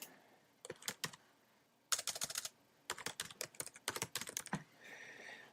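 Password being typed on a computer keyboard: bursts of quick, close key clicks in uneven clusters with short pauses between, ending in a softer hiss.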